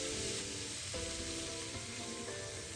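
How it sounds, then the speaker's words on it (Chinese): Minced pork and tofu sizzle in a pan as 200 ml of water goes in for braising, a steady close frying hiss with faint tonal hum running throughout, no voices. "这时候再加入清水200毫升，"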